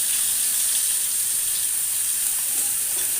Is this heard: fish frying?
yes